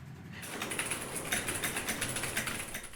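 A standard keyboard set up to imitate a mechanical one clatters with rapid, continuous keystrokes, close and fairly loud with no voices.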